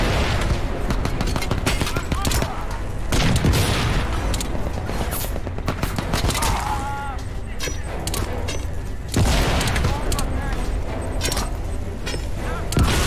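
Gunfire in Crysis 2 Remastered: repeated loud shots and heavy booms crowd a busy battle scene, with bursts of automatic fire spread across the whole stretch.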